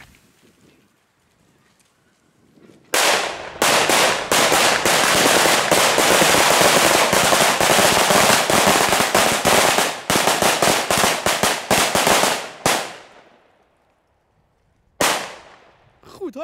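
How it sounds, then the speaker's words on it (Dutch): A long, dense barrage of cardboard strike-fuse firecrackers crackles loudly for about ten seconds, then stops, followed by one last short burst of pops. "strijkers kunnen wel snel afgaan"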